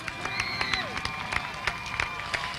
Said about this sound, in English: How about a big round of applause for your second place finisher, Charging Charlie Schultz.